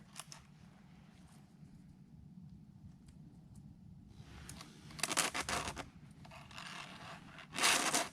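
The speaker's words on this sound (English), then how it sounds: "we're continuing to sharpen around this chain" Filing a chainsaw chain to sharpen its cutters, heard as rhythmic rasping scrape strokes in short bursts, with quieter rubbing between and louder passes near the end.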